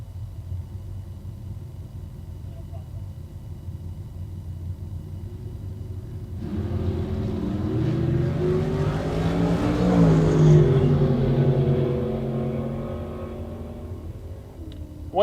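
Drag race cars, among them an '84 Camaro, roar down the strip at a bracket race, a steady engine rumble swelling loudly from about six seconds as cars launch and pass, then easing slightly toward the end.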